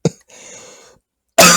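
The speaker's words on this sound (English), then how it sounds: "I'm just coughing." A single sharp cough, followed by a short breathy pause and then another loud, harsh cough close to the microphone.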